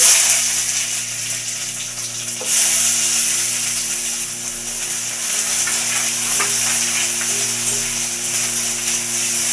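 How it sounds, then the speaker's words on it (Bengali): Chopped onion fries in hot oil in a wok, giving a steady, close hiss of sizzling that swells slightly after a couple of seconds. A low, sustained tone hums underneath. "কড়াই আমি তেল দিয়ে দিয়েছি, তেলটা গরম হয়ে গেছে। পেঁয়াজ কুচি"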